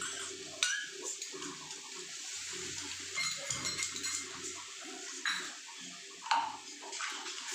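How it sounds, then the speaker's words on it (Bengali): Water from a rinsed bowl poured into a pan of vegetarian potol and chhana bora curry, with clinks of a utensil against metal and soft splashing in a home kitchen, no talk. "এখানে আমি অল্প জল এই বাটি ধুয়ে জলটা দিয়ে দেবো।"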